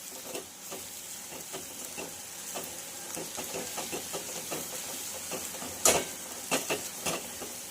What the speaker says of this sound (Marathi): तर हे सगळे मसाले आपल्याला एकजीव करून छानपैकी असे फ्राय करून घ्यायचे आहेत